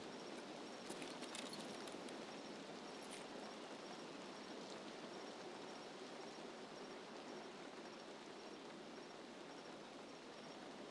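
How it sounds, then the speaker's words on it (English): Soft, steady video game rain hisses evenly throughout, a faint, continuous wash of noise with a few light ticks early on. "I don't know with that rain"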